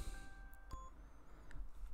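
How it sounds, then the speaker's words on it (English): Short electronic tones from a phone alarm, a few thin, high beeps spaced irregularly against a quiet background, faint and heard alone without speech. "sorry, that's my alarm."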